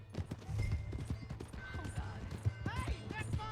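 Horse hooves clip-clop in Red Dead Redemption 2, a quick irregular run of hoof beats mixed with game noise, brief voices and a few sharp bursts.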